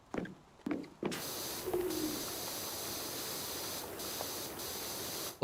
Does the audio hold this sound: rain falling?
no